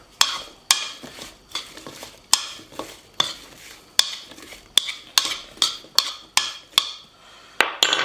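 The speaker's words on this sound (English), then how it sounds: "we're going to add the mugwort to it and give that a bit of a stir" A utensil stirs cut fruit and mugwort in a pot with a series of sharp, regular knocks and scrapes against the metal, close and clear with quiet gaps between strokes.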